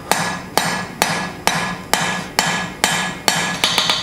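A small ball peen hammer strikes hot metal on an anvil while forging tongs, landing about nine firm, evenly spaced blows that ring sharply, with a quicker cluster of lighter taps at the end.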